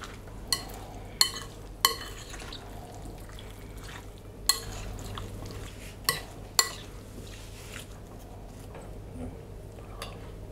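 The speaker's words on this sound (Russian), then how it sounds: "Все, салатик перемешиваем." Salad of marinated butter mushrooms dressed with olive oil and pepper, stirred in a bowl: scattered light clinks and scrapes of a utensil against the dish over a steady low background hum.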